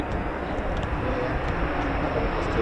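A US Air Force F-15 or F-35 fighter jet making a low approach at RAF Lakenheath, a steady loud roaring rumble that holds throughout.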